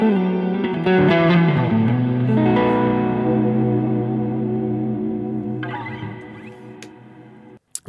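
Electric guitar played through a lush, roomy shimmer-style reverb set up in ToneStack inside Loopy Pro; sustained chords bloom and ring out in a long, washing tail before cutting off abruptly near the end.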